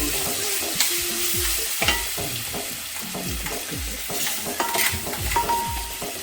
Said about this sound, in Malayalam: എന്നിട്ട് ഇത് നന്നായിട്ട് വഴറ്റി കൊടുക്കുക.